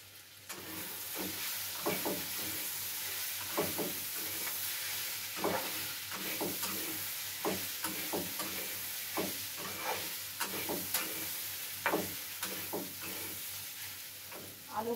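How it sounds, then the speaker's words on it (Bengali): Potatoes fry in a pan with cumin powder, a constant sizzling hiss beneath a long run of close scraping stirs and clinks that keep an uneven rhythm throughout, with no voices. "আলুগুলো আমি নাড়তে যাচ্ছি, একটা একটা করে পড়ে যাচ্ছে"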